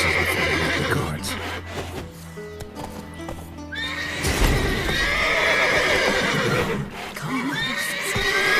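Horses neighing and whinnying in The Witcher 3 video game, several loud calls overlapping with clip-clopping hooves throughout, a sharp whinny rising midway above a busy in-game soundscape.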